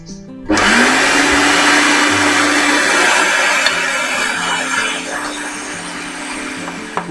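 A mincing machine roars to life, grinding chital fish into a paste: a loud, steady motor whine with gritty churning that starts abruptly and runs continuously close by, easing slightly toward the end, with no voices over it.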